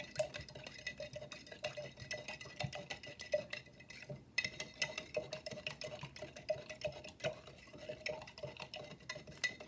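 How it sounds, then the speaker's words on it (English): A spoon stirs blue salt solution for a crystal experiment, a rapid, continuous clinking and scraping against the container that runs the whole time, close and fairly soft, with no voices. "I'm going to give the blue another stir."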